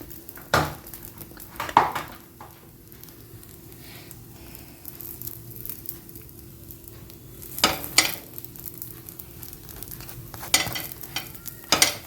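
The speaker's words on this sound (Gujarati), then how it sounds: "ક્રિસ્પી થાય ત્યાં સુધી એને શેકવાના છે. આની ઉપર પણ થોડું બટર એડ કરી દીધી." Pav buns toasting in butter on a hot pan for pav bhaji, a soft low sizzle broken by several sharp spatula scrapes and clinks against the metal, heard up close with no talking.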